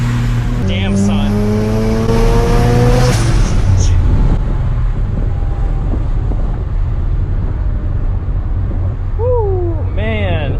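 A turbocharged Mazda RX7 FD3S rotary engine revs hard and pulls away loud and close, with a rising then falling engine note, wind buffeting and faint voices at the end.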